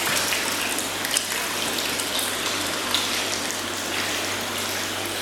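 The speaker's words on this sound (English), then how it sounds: "Start water flowing in." Water from an Evolution Aqua Nexus 310 pond filter setup flows into a pond, a steady broadband gush and splash that runs evenly at moderate level without pauses, with no voices.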